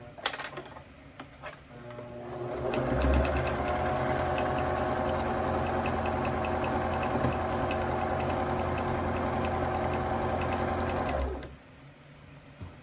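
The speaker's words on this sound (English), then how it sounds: "sew it down just like we did the other one" Sewing machine stitching down a seam on a drawstring backpack, running steadily and close for about nine seconds with a rapid even needle rhythm, then stopping.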